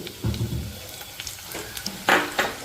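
Coriander and cumin seeds splutter and crackle in hot oil, with a low sizzling rumble early on and sharper crackling pops later, close and moderately loud.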